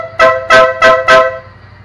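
A loud car-type horn on a Yamaha Mio MXI 125 motorcycle, powered by a new battery, honks four times in a quick, even rhythm, each blast short and close, then fades to quiet.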